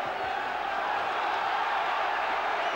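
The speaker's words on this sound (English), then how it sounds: "The crowd cheering the American on" A boxing crowd cheers on the American fighter, a steady, dense roar of many voices filling the arena at moderate distance without break.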